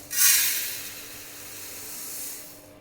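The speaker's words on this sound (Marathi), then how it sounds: "गॅस पेटून त्याच्यावर पातेलं ठेवूया" A gas stove burner ignites with a close, steady hiss of flame and gas that swells quickly and holds through the moment, heard alone before a pot goes on to make sugar syrup.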